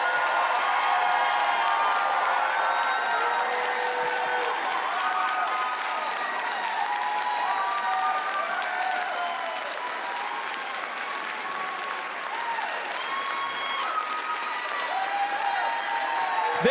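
A comedy club crowd at a stand-up special bursts into sustained loud applause with cheers and whoops for a guest named Tanner, steady throughout, with voices shouting over the clapping.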